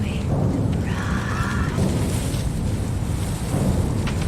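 A heavy thunderstorm with downpouring rain, a dense steady hiss and low rumble throughout, with brief tonal squeals and a whinny-like call mixed in over the storm.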